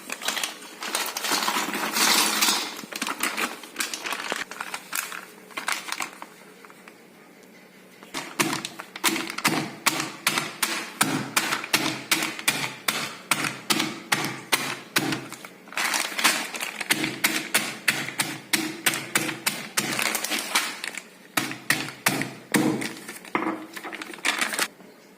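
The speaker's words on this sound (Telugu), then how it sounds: "దీన్ని ఒక కవర్లో వేసుకొని దంచుకోవాలి." Butterscotch brittle pieces inside a plastic cover are pounded, giving bursts of rapid, sharp cracking and tapping thuds in repeated runs with short pauses between them, close and fairly loud.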